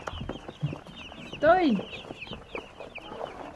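Three-day-old broiler chicks in a crowded box give scattered high peeps, with one sharper chirp standing out midway, close and moderate under a woman's brief spoken word.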